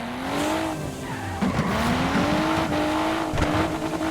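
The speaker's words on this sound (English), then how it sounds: "I was gonna do some sick donuts around this" A car in GTA IV spins donuts, its engine droning steadily while tires squeal and skid in long rising and falling wails, loud and close, with no voices.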